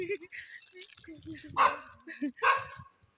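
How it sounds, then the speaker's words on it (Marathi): Two sharp dog barks ring out close by, mixed with scattered speech and small yelps. "एकदम पळत आले कुत्रे"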